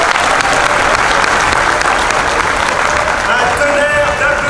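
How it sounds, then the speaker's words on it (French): Loud, dense applause from a large crowd at a political rally in Arras, a continuous roar of clapping that holds steady throughout, close and enveloping. "Un tonnerre d'applaudissements"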